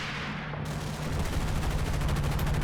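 A Vickers machine gun in the Combat Mission: Battle for Normandy wargame fires a sustained rattling burst, steady and loud throughout, with no voices.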